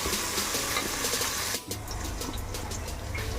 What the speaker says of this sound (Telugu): కొత్తిమీర కూడా ఫ్రై చేసుకోవాలి.